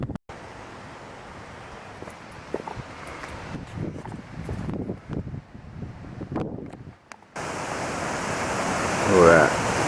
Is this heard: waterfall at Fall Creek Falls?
yes